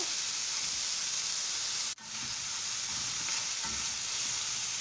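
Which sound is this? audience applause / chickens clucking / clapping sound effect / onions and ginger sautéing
onions and ginger sautéing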